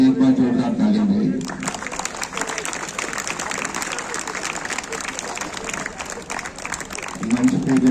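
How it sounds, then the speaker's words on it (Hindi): Audience applause at a Delhi state school volleyball championship prize ceremony: a dense, sustained wash of clapping from a crowd for about six seconds, with someone speaking over a microphone before and after it. "आयोजककर्ताओं के लिए एक बार जोरदार ताली मिली।"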